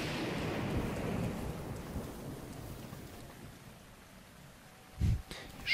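A lightning strike in the video game Zelda: Breath of the Wild, heard as steady rain and rolling thunder that fade, then a sharp close crack near the end.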